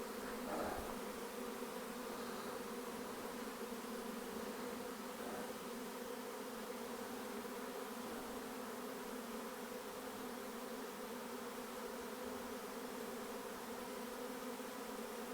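A honey bee swarm hums in a dense, continuous drone, with layered buzzing from many bees that stays steady and moderately loud throughout with no voices.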